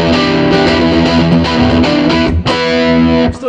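Electric guitar played through an Electro-Harmonix Big Muff Pi fuzz with its tone control bypassed, a loud, thick sustained distorted chord wall with strummed attacks, briefly choked near the end before ringing again.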